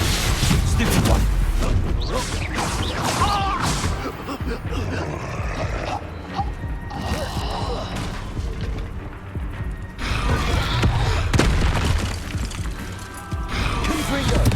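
Confringo fire spell explosions in the Hogwarts Legacy video game, with repeated booming blasts and crashing impacts over a long stretch of loud combat, mixed with grunts and shouted voices.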